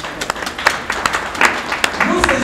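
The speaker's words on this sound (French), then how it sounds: "je crois que tu mérites nos acclamations, nos encouragements" Scattered hand claps from an audience at a press conference, an uneven patter of close claps with a voice speaking under them.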